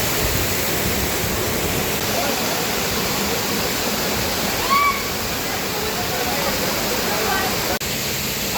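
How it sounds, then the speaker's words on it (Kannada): Amboli waterfall roars as a dense, loud, unbroken wash of falling water close by, steady throughout with a faint brief tone rising above it midway. "ಅಂಬೋಲಿ ಫಾಲ್ಸ್ ಅಂತಿ ಜಬರ್ದಸ್ತ್ ಐತ್ರಿ"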